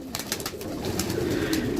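Pigeons coo softly on a rooftop loft holding around 140 birds, including Golden, Rampuri and Teddy breeds, with low repeated cooing and light bird chatter throughout under steady background noise.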